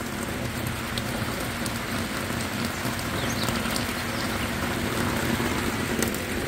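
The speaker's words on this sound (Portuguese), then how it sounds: "Continua chovendo bastante." Heavy rain falls steadily on a riverside home, a dense, constant hiss with scattered drop patter, loud and unbroken throughout with no voices.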